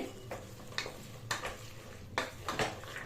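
Potatoes, peas and tomato are stirred in a frying pan for vegetable pulao, with a spoon scraping and tapping the metal every half second or so over a faint, steady sizzle, close up and without voices.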